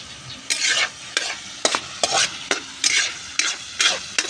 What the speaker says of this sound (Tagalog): hanggang mag brown yan, hanggang mag crispy